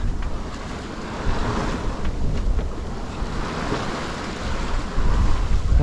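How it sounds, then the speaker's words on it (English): Wind roars steadily over a sailboat heading out to sea, mixed with rushing waves and gusty buffeting of the microphone, loud and continuous throughout. "So you get a bit more wind now as we get further out."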